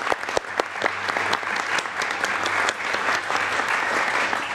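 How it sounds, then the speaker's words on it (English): An audience in a Washington meeting hall gives a round of applause for panelists, sustained crowd clapping with sharp individual claps standing out near the start before settling into an even roar. "Let's give all of our panelists another round of applause."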